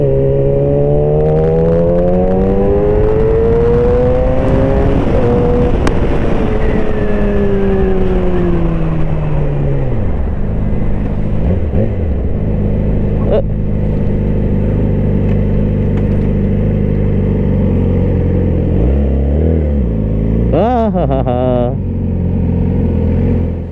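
A Yamaha R6 sport motorcycle's engine revs up and down while riding, loud and close, with rising and falling engine tones shifting through gears and a voice speaking over it at times.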